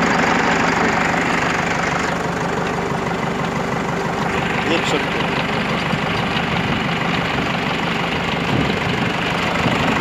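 A Preet tractor engine runs after a crown fitting repair, a steady, loud, low idling rumble with a rhythmic mechanical beat throughout, while someone talks over it.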